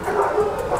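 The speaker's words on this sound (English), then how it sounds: "Just ignore the dogs." Dogs in a GTA video game mode, a short, dense run of overlapping yelping and whining barks, loud and close.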